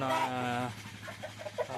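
A black hen clucks and vocalizes close by, a drawn-out tonal call followed by a few short, soft clucks.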